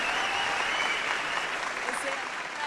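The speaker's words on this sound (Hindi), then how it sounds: "ये तालियों की जो गूंज थी जो गड़गड़ाहट थी" Sustained applause from a poetry festival audience at Jashn-e-Rekhta, a dense steady wash of clapping with a faint voice mixed in.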